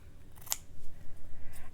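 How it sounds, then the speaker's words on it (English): Scissors snip once through cross stitch fabric for a Halloween sampler, a single short crisp cut followed by faint rustling of the cloth, close and quiet with no talking. "So I'll cut this fabric"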